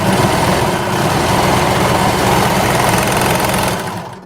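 A sewing machine stitches a fabric drawstring bag in one continuous, loud, close run of rapid mechanical whirring that tapers off at the end, with no talking.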